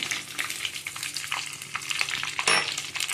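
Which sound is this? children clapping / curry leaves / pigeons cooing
curry leaves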